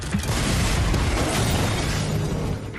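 A museum explosion, a dense roaring blast of broadband noise that rumbles on steadily for a few seconds at moderate loudness with no voices present.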